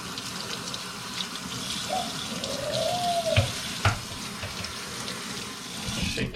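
Steady tap water runs over a deer skull being rinsed in a sink after whitening with 40 volume salon cream, a continuous close splashing hiss with a couple of sharp knocks and a brief squeak partway through.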